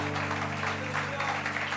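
Church congregation at an IBR Lisbon evening service breaking into applause, dense clapping that holds steady under sustained music or organ tones.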